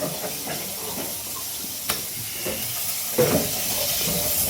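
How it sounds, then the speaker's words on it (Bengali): Fish frying in oil in a frying pan while being turned over, a constant soft sizzle and hiss with a few sharp clinks and scrapes scattered through it. "এপিট ওপিট করে মাছগুলো লাল করে ভেজে নিতে হবে।"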